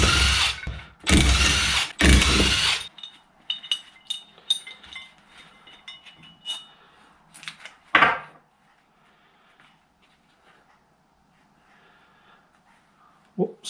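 A heavy power tool nicknamed Big Bertha rattles out brake caliper bolts on a Daewoo Matiz in loud short bursts, followed by metallic clinks and tool handling, then a final brief buzz and near silence.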